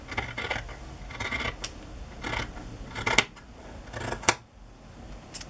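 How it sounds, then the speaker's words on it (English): Scissors snip through paper or fabric while trimming a journal page for a Christmas project, with a run of soft scratchy cuts building to two sharp, close closing snips near the end, no talking. "Actually, I think I do want it to be a little shorter, so I'll just cut that part off."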